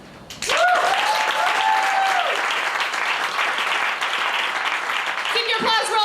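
Audience applause at a live music performance, bursting in loudly after a moment and holding as a dense, steady clatter, with a few voices and whoops mixed in and someone speaking over it near the end.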